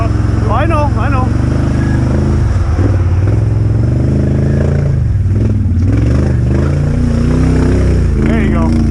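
A dirt bike engine burbles at low throttle on a lake ride, loud and close, with rising and falling revs while people talk and call out instructions over it.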